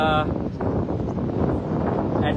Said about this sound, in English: Wind in my face over here